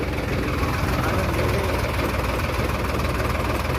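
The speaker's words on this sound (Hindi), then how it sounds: "ट्रैक्टर से ही सफ़र कर रहे हैं हम सब।" A new Farmtrac Powermax tractor engine runs steadily on the road, producing a loud, close, continuous rumble with a knocking, vibrating texture throughout.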